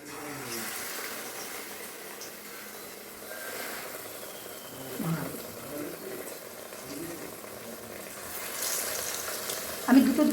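Stuffed gourd and pumpkin leaves fry in a large kadai with a soft, uneven sizzle, joined by a few louder pops and splutters, the last one near the end.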